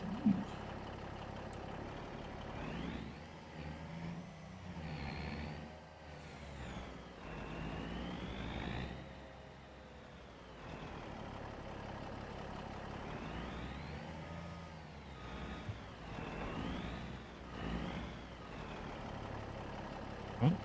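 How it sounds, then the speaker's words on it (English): Driving a truck in Farming Simulator 25: a rumbling engine rises and falls in pitch as it revs and shifts, with a few sharp hissing bursts near the start and end over a continuous drone. "The sounds as you're driving this truck are a little weird"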